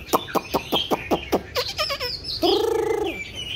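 A caged pet bird, kept at home, sings close by: a run of quick evenly spaced chirps, then a fast twittering trill and a longer warbled whistle, clear over quiet background hiss with no talking.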